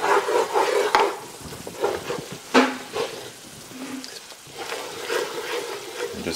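A spatula scrapes and stirs a thick flour paste cooking in a pan, giving uneven scraping strokes and soft sizzling with a few sharp knocks against the pan.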